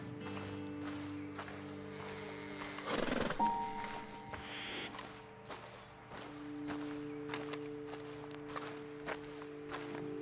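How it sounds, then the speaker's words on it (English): Horses move about after the riders dismount in Red Dead Redemption 2, with close hoof clip-clops, shuffling steps and a snort over a low musical bed, and no talk. "Okay, let's dismount here. Best leave the horses back a bit."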